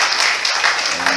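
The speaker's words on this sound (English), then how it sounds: "Let's give her a round of applause." Church congregation applauding during a worship service, a dense burst of clapping that fills the whole short moment, loud and close.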